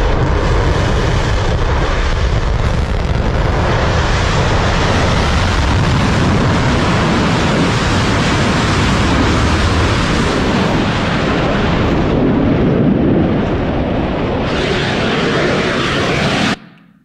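Rocket launch at Kennedy Space Center, a loud, sustained broadband roar with deep rumbling and crackle lasting about sixteen seconds, steady throughout before cutting off abruptly, with no talking.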